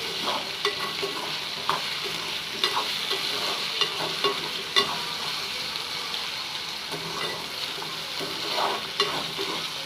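Okra and potato frying in a generous amount of oil while being stirred in the pan, a steady close sizzle broken by repeated scraping and clinking of the spoon against the pan.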